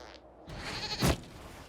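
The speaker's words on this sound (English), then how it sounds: "we discovered this man attacking the building with a goat" Goat in the video game Dragon Age: Inquisition giving a single short bleat just after the midpoint, fairly faint against quiet game ambience.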